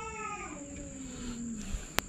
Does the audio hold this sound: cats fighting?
yes